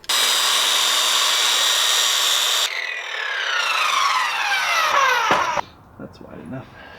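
A circular saw cuts through wood in a garage build, a loud steady whine running for a few seconds, then bogging and sweeping down in pitch as the blade finishes the cut and spins down, followed by faint handling noises.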